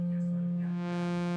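Plain synthesizer sine wave tone, a steady, loud sustained pitch holding for just over a second with faint added harmonics creeping in toward the end.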